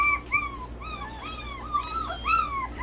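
Bordoodle dogs whimper and whine nearby in repeated high, wavering rising-and-falling cries that overlap continuously, with no speech.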